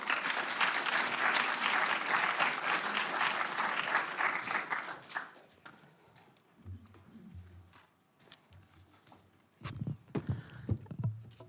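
An audience at an arts symposium applauds warmly for about five seconds to welcome a speaker, then the clapping thins out and dies away, leaving quiet room noise and a few scattered sounds.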